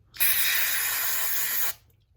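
Aerosol cleaner sprayed into the threaded area of an automatic transmission where a nut was removed, one steady close hissing burst of about one and a half seconds with no talk.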